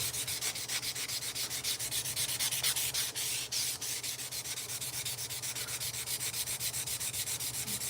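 A forged metal blade edge is sanded by hand to remove scratches, a close, steady back-and-forth rasp with a regular stroke rhythm running continuously, with no voices.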